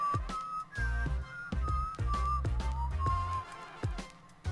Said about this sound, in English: A sharp whistle rings across the water?